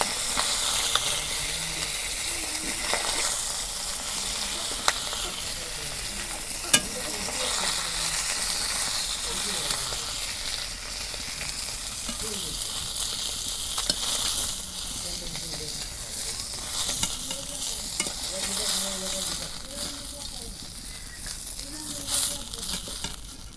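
Big mirka fish frying in a pan gives a steady, dense sizzle and hiss throughout, with occasional faint clinks and a quiet voice murmuring underneath.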